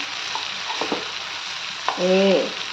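Gutti vankaya brinjal fry with onions sizzling in a pan while being stirred, a continuous hiss of frying broken by a few short scrapes and clatters of the spoon, then a brief harmonic squeak near the end.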